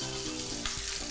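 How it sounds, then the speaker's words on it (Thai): Fish fillet frying in a pan gives a loud, continuous sizzle with light crackling and a brief scrape partway through. "เวลาคุณทอดปลานะครับอย่าลืมที่จะ เขย่ากระทะนิดนึงนะครับ"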